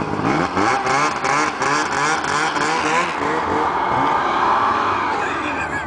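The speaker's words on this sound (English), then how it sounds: "Start spinning the tires a little bit." A car revs with its tires spinning while being pulled by an extension cord, engine rising and wavering loudly up close for several seconds, with rough tire scrubbing underneath.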